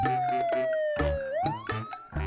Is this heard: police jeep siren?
yes